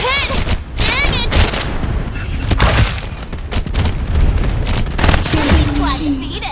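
Rapid automatic gunfire and explosive bursts in the Farlight 84 video game, loud and continuous through the whole stretch, with in-game voice lines and effects mixed in.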